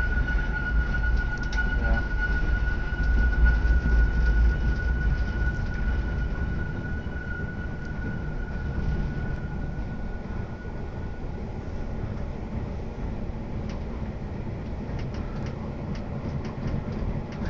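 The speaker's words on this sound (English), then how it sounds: "Like the Polar Express train getting ready to go down that hill." A train on the Stalden–Zermatt mountain railway in winter, steady rumbling wheels and carriage noise throughout, loud and close as if heard from onboard, with a faint high whine running along.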